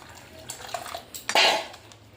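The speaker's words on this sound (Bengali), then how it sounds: "এর মধ্যে জল দিয়ে দিলাম" Water is poured into a bowl of mashed raw mango with salt: a few light clinks, then a short, close splash that quickly fades.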